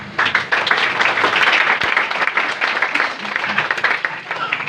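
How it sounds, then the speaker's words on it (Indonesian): A church congregation applauds at a Christmas service in a Bethel Indonesia church, a dense, steady wash of clapping that fills the room throughout, with faint voices mixed underneath. "Tepuk tangan buat anggota MPL kita."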